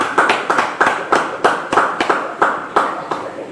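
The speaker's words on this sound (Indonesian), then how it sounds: "Yang percaya beri tepuk tangan bagi Tuhan." A church congregation at a Bible study claps for God in a steady, rhythmic beat, about ten sharp, close claps in a row with no talking.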